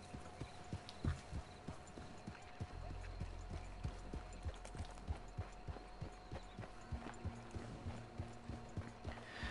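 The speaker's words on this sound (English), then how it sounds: "make an ASMR video just out of like the wilderness sounds in this game, like horse sounds" Horse hooves clip-clopping in Red Dead Online, a steady faint walking rhythm across the whole stretch over low ambient wilderness hum, with someone talking quietly at times.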